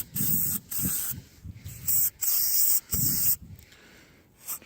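Aerosol cleaner hisses in several short, close bursts into the throat of a classic OMC outboard motor carburetor body during a rebuild, with brief gaps between sprays.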